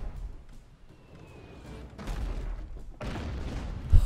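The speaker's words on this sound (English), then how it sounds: "Cannons fire there, and cannons fire there." Ship cannons firing in the naval video game Abandon Ship, a string of muffled booms and rumbling blasts with crackling debris, moderately loud in a dim, layered battle mix.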